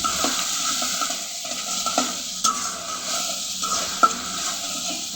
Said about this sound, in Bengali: মশলাটা কষাই